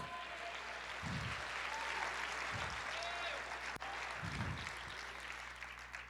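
A church congregation applauds, a steady wash of distant clapping that fills the room with a low hum, with faint voices within it.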